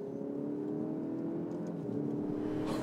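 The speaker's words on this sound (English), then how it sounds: "You can hear the exhaust." An Alfa Romeo Giulia Veloce's engine and exhaust drone steadily with a deep, rising tone as it accelerates, close and continuous with no voices.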